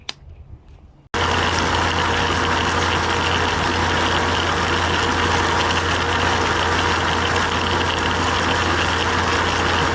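A wet brass tumbler washing brass cartridge cases starts after a second of quiet handling, then runs as a loud, steady mechanical rumble with a constant low drone and churning texture.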